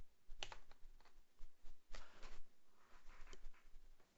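Keystrokes on a computer keyboard entering a web address, a quiet run of irregular clicks and taps close by, with brief pauses between short bursts.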